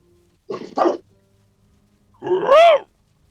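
A wolf in the Valheim video game lets out two quick barks close by, then a longer yelping howl after a short pause.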